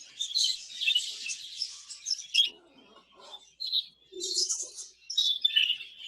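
Exhibition-quality budgerigars in a breeding setup chirp and warble in bright, busy bursts with brief pauses between, close and moderately loud, no talking.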